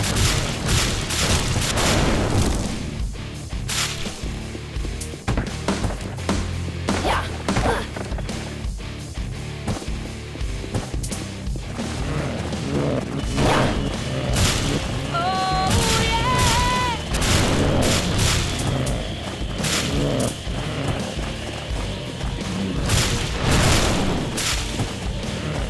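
Exploding zombies in the video game Rock Zombie, a dense run of loud blasts and gunfire-like bursts layered over continuous game music, with brief melodic chimes partway through.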